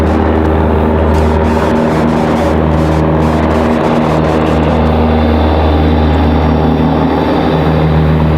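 An airplane on final approach at RDU airport hums with a loud, steady engine drone holding level tones the whole time, with no talk.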